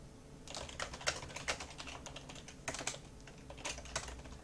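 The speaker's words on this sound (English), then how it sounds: "If I could type." Computer keyboard typing in quick irregular bursts of soft key clicks, close but quiet, with no talking.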